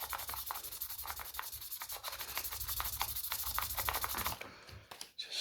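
Fine P1000 sandpaper smooths guitar frets in rapid, rhythmic strokes, giving close scratchy rasps that continue steadily and then break off near the end into a few quieter handling sounds.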